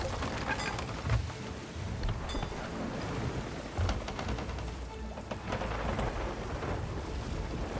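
A steady downpour of rain from a thunderstorm at sea in Sea of Thieves, with rumbling thunder bursts rising over the constant hiss. No voices are heard.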